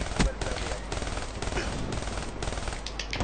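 Rapid automatic machine-gun fire in a first-person shooter video game, loud and continuous bursts over the whole stretch, with faint game background noise.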